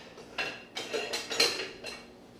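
Spoon scraping and clinking against a bowl while stirring powder ingredients together, five or six brisk near strokes with no talk.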